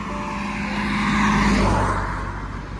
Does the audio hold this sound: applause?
no